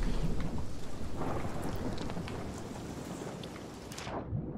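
A thunderstorm in the game Sea of Thieves: heavy rain pours steadily while low thunder rumbles beneath, the storm loud and continuous before the sound drops off at the end.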